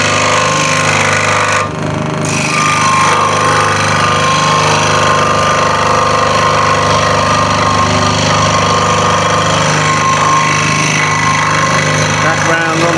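A powered saw cuts a wooden jigsaw puzzle in a workshop, giving a loud, steady, continuous mechanical whine and rattle with a brief dip near the start, carrying on without pause for the whole stretch.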